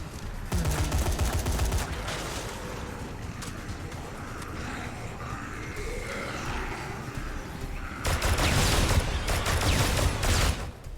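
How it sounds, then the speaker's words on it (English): Gunfire rattles in the Dead Rising 3 video game finale, dense bursts of shooting up close at the start, a quieter stretch with talk, then another heavy volley near the end. "I don't know what fucking bullets these like guns are shooting"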